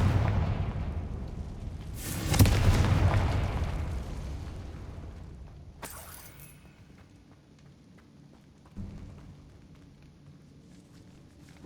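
A Confringo explosive spell goes off in Hogwarts Legacy, a loud blast with a roaring burst that decays over several seconds, followed by a sharp crackle and a fainter thump inside a decaying catacomb.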